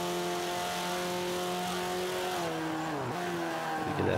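A 2005 Subaru WRX converted to rear-wheel drive revs hard on a track in Forza 5, its engine note holding high then dropping through a double downshift before climbing again, loud and alone.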